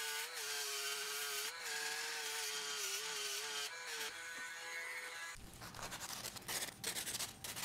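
A small cordless detail sander fitted with 80 grit sandpaper works on wood, a steady whining buzz with slight pitch wobble that cuts off partway, followed by rougher scratchy rubbing noise.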